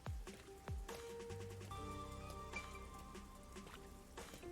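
Steady rain falls over a city in the Rain Code video game, a constant wash of patter under layered synth music tones and a few sharp low thuds.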